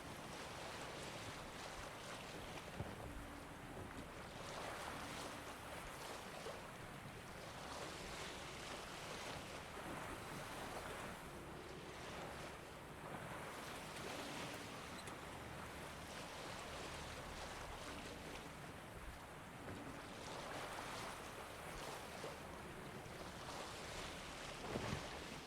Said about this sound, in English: I don't feel like sailing the waters of Skellige for long.